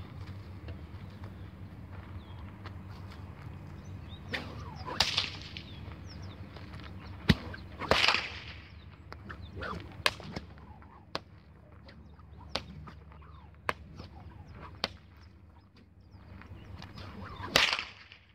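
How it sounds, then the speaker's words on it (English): A homemade nylon bullwhip of string and scrap pieces cracked outdoors: several sharp, sudden snaps spread across the stretch, a few louder than others, over a quiet rumbling background with no voices. "this is my 15-minute bullwhip that I made from nylon, pieces of string and stuff that I found at my house"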